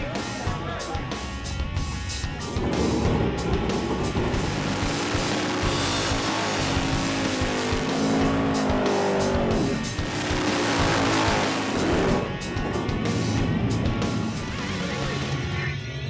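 Race cars from a drag-racing event roar loudly and continuously, with engine tones rising and shifting as they launch off the start, plus a brief high screech near the beginning.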